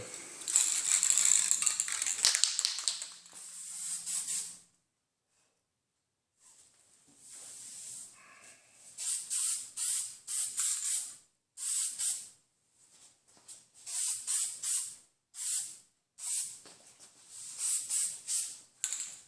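A spray can lays etch primer over Bondo filler during rear gate repairs on a 2007 Toyota 4Runner, giving a long hiss and then a run of short, close, sharp spray bursts separated by brief pauses.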